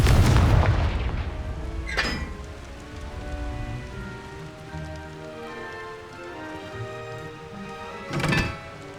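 Loud magical blasts from the Confringo fire spell in Hogwarts Legacy, a heavy boom at the start, a second burst around two seconds and another near the end, with lingering game ambience and music between.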